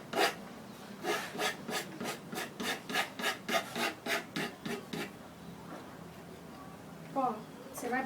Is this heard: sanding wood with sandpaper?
yes